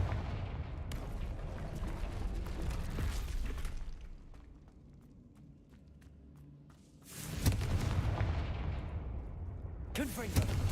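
A Confringo blasting spell goes off in the video game Hogwarts Legacy as sharp, booming bursts. A burst lands around the middle of the stretch and another near the end, over a busy, rumbling game soundscape.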